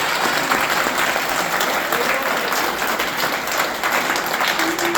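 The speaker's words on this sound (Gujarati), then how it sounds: "જેટલા મિત્રોને દેખાય એટલા એકવાર જોરદાર તાળી બજાવી શકે છે દોસ્તો" A crowd at a live herbal paste product demonstration claps steadily, a dense, even roar of hands that holds near and loud for the full five seconds with no pause.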